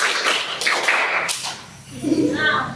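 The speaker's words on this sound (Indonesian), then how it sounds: "Tepuk 4." A school class claps a rhythm pattern on cue, a few sharp group claps in quick succession, followed by a voice speaking in the room.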